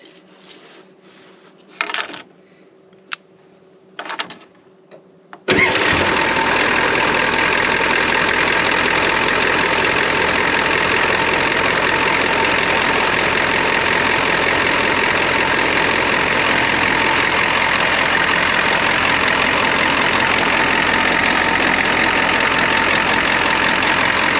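A 1992 Ford truck with a 7.3 IDI diesel engine, first a few clicks and clinks, then the engine fires up abruptly and settles into a loud, steady, clattering diesel idle close by for the remaining time.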